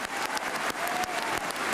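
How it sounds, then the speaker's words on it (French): Audience applause at a boxing final for Jean-Marc Mormeck, a dense, steady wash of clapping hands filling the space throughout, moderately loud with no voices standing out. "applaudissez-le parce qu'il a gagné"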